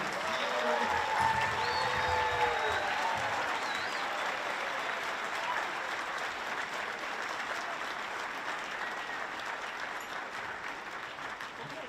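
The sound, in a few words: audience applause after elementary band concert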